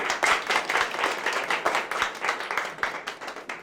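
An audience applauds at an awards ceremony held by a traders' association, producing a dense, rhythmic patter of many hands clapping at a steady pace, fairly loud and close, with no speech over it.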